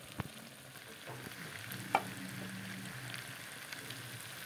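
Chicken pieces fry and are cooked down in a pan for a home-style chicken curry, giving a soft, steady sizzle with an occasional knock of the spoon; fairly quiet throughout.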